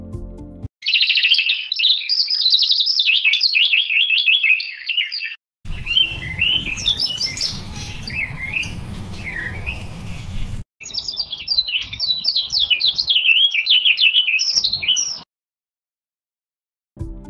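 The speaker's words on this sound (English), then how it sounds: "Like I am typing bird sound with heavy rain" AI-generated birdsong meant to include heavy rain: bright, busy chirps and trills, loud and close, in three long stretches separated by brief silences; no clear rain noise underneath.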